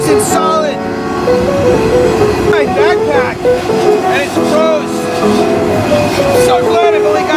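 A freight train rumbles loudly in a dense, continuous roar, with high metallic squeals and tonal whines from the wheels layered over it and a voice talking faintly underneath, heard up close from aboard.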